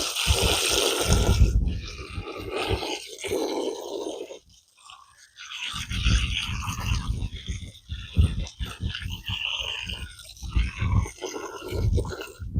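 Homestead pigs feed noisily at their food bowls, close-up loud grunting, snorting and wet chewing in irregular bursts, with a short near-silent pause partway through before the munching and grunts resume.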